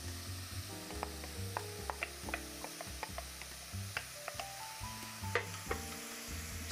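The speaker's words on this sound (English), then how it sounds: "Saute that a little bit. Maybe like 30 seconds or so. And we're gonna add that tempeh in." Tempeh sizzles and fries in a pan for vegan bolognese, a steady hiss with scattered clicks and scrapes of stirring, heard up close with no talking.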